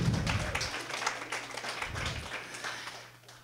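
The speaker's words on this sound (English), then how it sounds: "So give your all a round of applause for being here" An audience gives a round of applause at a talk on lymph and fascia, soft scattered clapping that thins out and fades toward the end.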